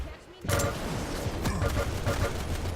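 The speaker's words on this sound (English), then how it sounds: "Good weapon switch too to get that extra machine gun damage" Machine gun fire in a Quake-style arena duel, a steady stream of rapid shots that starts abruptly after a brief quiet moment and continues at a constant rhythm, with game effects layered over it and faint commentary underneath.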